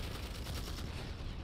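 Rapid bursts of automatic fire from a Spitfire auto-turret in Planetside 2 rattle on in a dense, continuous stream, fairly loud and crackly, with no voices over it.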